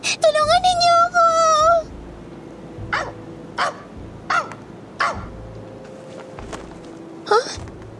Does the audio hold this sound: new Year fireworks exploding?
no